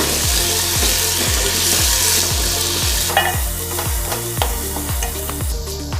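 Ginger garlic paste being stirred into a hot pan for a beef dum biryani, with a steady sizzle and rhythmic spatula strokes scraping about twice a second, close and loud.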